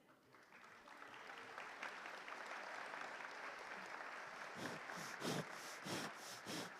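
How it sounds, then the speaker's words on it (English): Faint, distant applause from a banquet crowd at a 30th anniversary fundraiser night, a soft continuous patter of many hands, with a few sharper, closer claps standing out near the end. "We're all clapping except for those people who are standing up"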